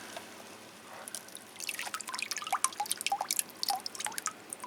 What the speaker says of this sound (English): we'll just put that down and let it drain a little bit